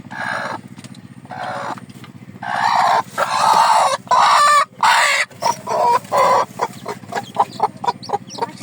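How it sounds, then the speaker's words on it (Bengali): A mother hen clucks repeatedly beside her newly hatched chicks, close and loud, in short bursts that quicken toward the end over a low steady background hum. "মুরগির বাচ্চা ফুটে আজকেই বের হলো"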